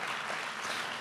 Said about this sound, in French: Si vous voulez m'applaudir, c'est sympa.